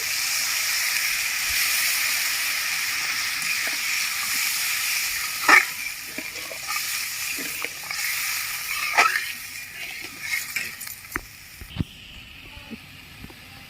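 A pot of tilapia curry broth with poppy seed and mustard comes to a boil, giving a steady hissing, steamy simmer with scattered soft pops and bubbles over about fourteen seconds.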